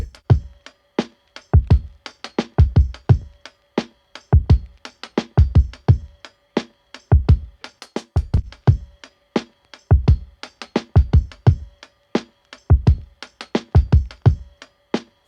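A processed drum beat built in the SOULFI plugin, heavy punchy kicks and snappy hits in a tight, repeating groove, loud and dry with no voice over it.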